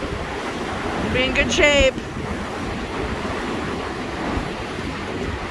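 Strong wind gusts of up to 60 mph buffet a walipini greenhouse, a steady roaring rush with heavy wind noise on the microphone, while a person speaks briefly near the start.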